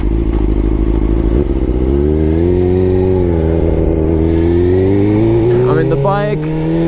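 A Suzuki GSX-R 600 motorcycle engine accelerates on the road with a loud, close, continuous drone. Its pitch climbs steadily through the revs, with a rush of wind noise throughout.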